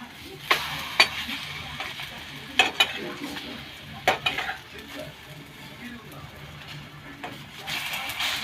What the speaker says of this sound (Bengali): এভাবে ঠিক হালকা তেল দিয়ে এটি ভেজে নিতে হবে